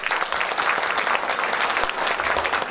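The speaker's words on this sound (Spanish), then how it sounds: "La recibimos con un fuerte aplauso" An audience at the opening gala of the Third International Dominican Book Fair applauds strongly, a dense and continuous wash of clapping that holds at a steady, loud level throughout.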